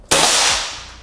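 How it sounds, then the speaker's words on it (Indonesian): A PCP Brixton air rifle fires a single shot during an accuracy test, a loud, sharp crack with a short fading tail. "Untuk tembakan yang terakhir nih,"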